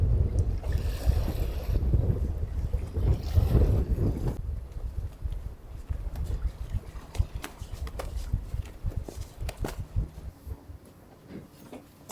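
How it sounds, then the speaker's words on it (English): Wind gusting over a sailboat cruising off a large Brazilian island, a strong low rumble of wind noise for the first few seconds, then easing into a steadier, quieter whoosh with faint clicks and knocks aboard. "Wind's coming directly from the south"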